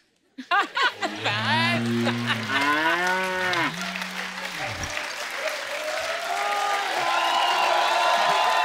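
Water buffalo lowing loudly in a series of long, drawn-out moos that rise and bend in pitch, followed by sustained crowd-like noise and cheering.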